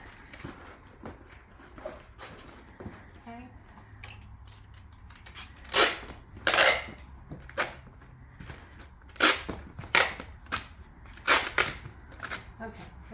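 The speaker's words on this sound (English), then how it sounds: "I'm going to tape this up here" Packing tape being pulled and stuck across a cardboard box, with repeated loud ripping screeches and thumps, close up, between quieter handling sounds and some talking.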